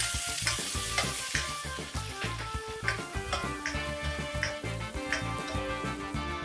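Sichuan peppercorns sizzle in hot oil alongside ginger and garlic in a wok, a steady crackling fry broken by repeated stirring scrapes, close and fairly quiet with no talk.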